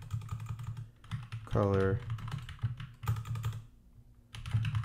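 CSS code is typed on a computer keyboard in quick clusters of close, light key clicks, while someone talks over much of the typing.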